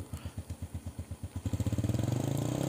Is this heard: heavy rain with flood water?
no